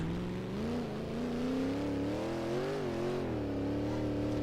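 Shelby Cobra 427 in the Assetto Corsa driving simulator, its engine revving steadily with rising and falling pitch during a drift, loud and continuous throughout with no talk.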